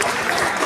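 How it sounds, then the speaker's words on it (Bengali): A crowd at a high school annual function and prize distribution ceremony breaks into a dense, loud burst of clapping that fills the short moment without pause. "একবার জোরে হাততালি"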